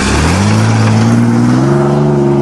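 A 1994 Chevrolet Blazer with a 4.3 engine revs hard on a steep hill climb, a loud, steady engine roar that rises in pitch as it digs in, with no talk over it.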